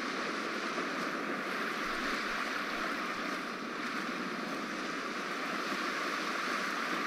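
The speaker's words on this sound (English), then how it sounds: "look at the waves in there" Ocean waves on a coast in the video game Dear Esther make a steady, even wash of surf and wind, with no voices over it.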